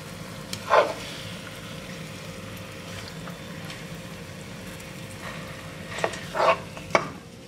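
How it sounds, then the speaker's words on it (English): Pork chops brown in a pan with a low, steady sizzle. A few sharp utensil clanks cut in, the clearest near the start and at the end. "So now I'll brown the pork chops on both sides."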